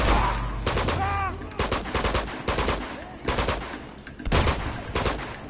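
Rapid bursts of automatic gunfire in an Uncharted 2: Among Thieves battle against an army of enemies, loud, clustered volleys with brief gaps and other game effects mixed in.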